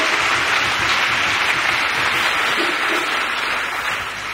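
A church congregation applauding together, a loud sustained wash of clapping from many hands that holds steady throughout.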